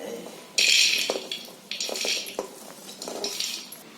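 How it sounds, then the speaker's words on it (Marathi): Masoor lentils go into a pressure cooker with a burst of pattering grains against metal, followed by several lighter clinks and rattles of utensils nearby. "आता मी मसूर कुकरला लावते"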